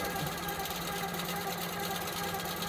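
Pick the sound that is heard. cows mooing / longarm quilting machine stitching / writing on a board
longarm quilting machine stitching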